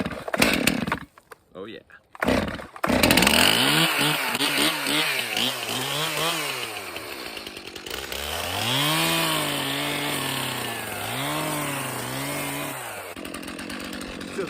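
A small gas engine with its choke on is hand-cranked on vacant land, sputtering briefly before catching and running loud and close with a rising and falling revving tone, and a voice speaks briefly over it.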